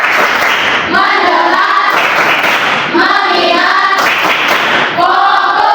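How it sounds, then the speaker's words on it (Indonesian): Children in a classroom perform a chanted clapping routine, their rhythmic hand claps coming in bursts alongside the group chant, with a teacher's voice leading between rounds. "Tepuk empat. Tepuk lima. Tepuk fokus."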